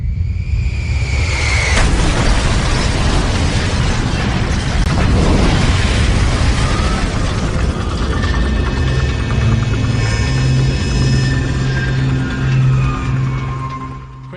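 A massive explosion of Pan Am Flight 103 over Lockerbie roars in with a broad, rumbling blast that swells and lingers, followed by a low, sustained hum and rumble.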